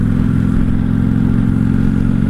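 A 1995 Honda Shadow VLX 600 VT600CD engine rumbles steadily while riding, a loud, close, even drone with constant low throb and no talk.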